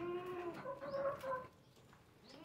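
Desi chickens on a farm cluck in short, overlapping calls at moderate distance, fading into quieter background noise after a second or so.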